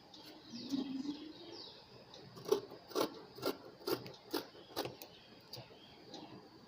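Scissors cut blouse sleeve fabric by hand, making a run of quiet, evenly spaced snips through the cloth, close by with no talk.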